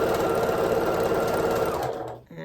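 A sewing machine stitches a quilt strip with a quarter-inch seam, running in one fast, steady whirring burst close by before stopping abruptly near the end.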